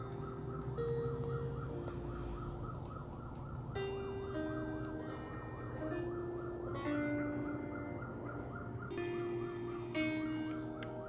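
A police siren wails in a steady rising-and-falling cycle throughout, fairly faint and distant, heard alone without talk.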